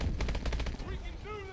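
Rapid bursts of automatic gunfire in the Call of Duty: Advanced Warfare video game, a dense rattling volley over about a second that gives way to quieter game sounds.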